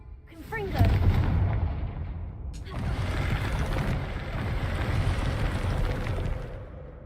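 In the video game Hogwarts Legacy, a Confringo blasting spell sets off a heavy booming explosion, followed by a second burst and a long rumbling, crackling tail.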